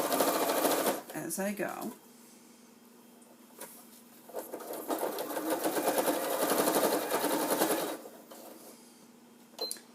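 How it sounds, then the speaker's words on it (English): A sewing machine runs in bursts, its rapid mechanical stitching whirring nearby as it sews close to a folded fabric edge, with a person talking briefly in between. "Sewing very, very close to that folded edge, removing the pins"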